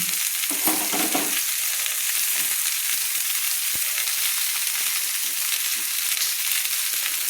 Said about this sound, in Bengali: দিয়ে আমি ভালো করে কিন্তু নেড়ে নিচ্ছি